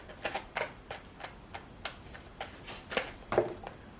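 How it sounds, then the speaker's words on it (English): Playing cards shuffled by hand for a tarot-style reading, a series of soft, irregular riffling taps and flicks spaced about every half second, close and fairly quiet. "my shuffling is not really that great today"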